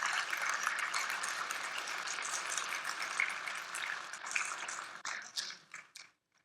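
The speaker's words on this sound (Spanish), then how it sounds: "¿Por qué no le das un fuerte aplauso al Rey de Reyes por eso?" A church congregation bursts into dense, sustained applause that holds steady, then thins into scattered claps and fades out.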